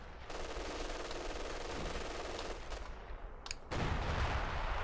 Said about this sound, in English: why am I hearing artillery fire?